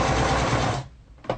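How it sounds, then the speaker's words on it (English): A sewing machine stitches a short back stitch on a guitar strap, a loud close burst of whirring needle action lasting under a second, then stopping, followed by a single brief mechanical clunk. "Do a little back stitch."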